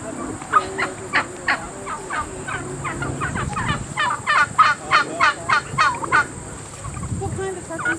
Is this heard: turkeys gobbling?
yes